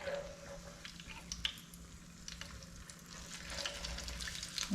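Apple pies frying in peanut oil give a steady, quiet sizzle with faint crackles and a few light scrapes, holding evenly throughout.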